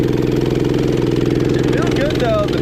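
A 212cc engine swapped into an Axis M200 minibike with a flat rear tire runs loud and close at a high steady rev, producing a strong pulsing drone that wavers slightly near the end.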